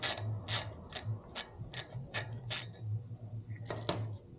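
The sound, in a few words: removing brake screws on a Porsche 992 Carrera S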